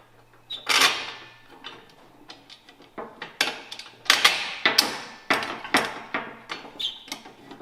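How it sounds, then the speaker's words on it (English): Metal bolt being pushed through the handle of a weed burner incinerator during assembly, heard as a series of close, sharp clicks, taps and knocks in an irregular rhythm. "we'll insert that bolt, back through there and through the hole here on the handle"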